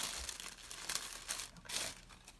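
Packing paper crinkling and tearing during unpacking of a reborn baby box, a close, continuous rustle with a few sharper rips, no voices.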